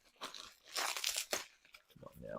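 Packaging on bonsai pots being torn open, with bursts of ripping, crunching and crinkling in uneven spurts and a voice speaking alongside.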